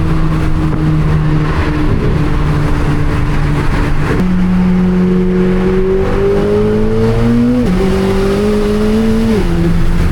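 A 1064hp Corvette C8 ZR1 roars through downtown Chicago streets at night, its exhaust loud and close as the engine pitch climbs through hard pulls with gear shifts between rising sweeps.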